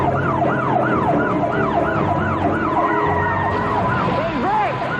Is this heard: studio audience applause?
no